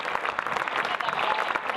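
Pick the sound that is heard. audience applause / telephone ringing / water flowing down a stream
audience applause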